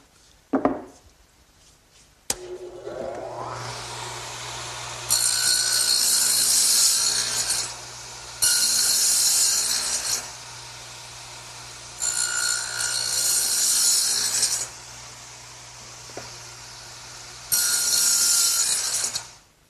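A dado head on a radial arm saw cuts a rabbet joint in wood for a workbench tool storage end piece: the motor spins up and hums, then several loud rasping cutting passes come in bursts separated by quieter running.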